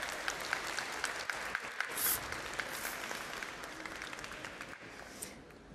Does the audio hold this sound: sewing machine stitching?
no